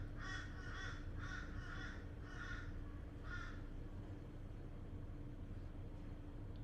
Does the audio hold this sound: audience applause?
no